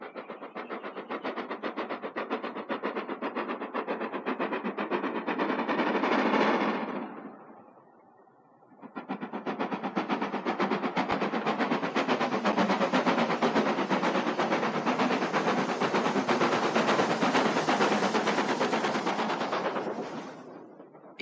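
Stanier 8F steam locomotive 48151, a 1934 LMS 2-8-0 freight engine, working hard on the main line with an excursion train, rapid loud chuffing that dips briefly then returns at full strength.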